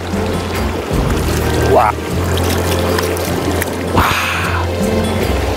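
A hand splashes in cold, clear mountain stream water below a waterfall in Ulsan's Yeongnam Alps, brief close swishes and gurgles over a steady flowing-water background, with someone speaking.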